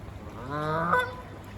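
A single goose honk rings out, a short nasal call at moderate distance over a quiet outdoor background on the Kennet and Avon Canal in England.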